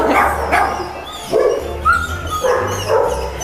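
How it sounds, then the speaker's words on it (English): Dogs at a shelter bark in repeated bursts, several overlapping barks and yips rising and falling close by, in a noisy reverberant room with no talk. "now we're gonna go visit the dogs, and it's gonna be really noisy."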